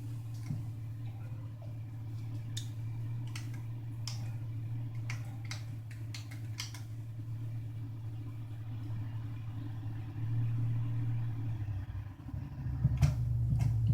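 An aircraft engine runs in a flight simulator game as a low, steady drone that shifts near the end. Sharp, sparse clicks are scattered over the top.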